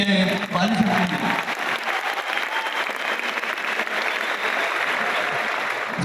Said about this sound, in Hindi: एक जोरदार तालियां बनती है